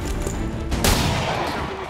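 A pistol shot in a tactical video game: a loud sharp crack near the middle, set against continuous battle noise and a steady background bed.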